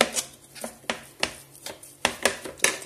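A spoon stirs a thick honey and hazelnut mix, giving about a dozen sharp scraping clicks in an uneven rhythm, close and clear with no voices.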